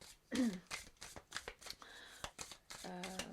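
Tarot cards are handled and laid down on a table in a series of soft shuffling and slapping strokes, with someone speaking French at moments between them.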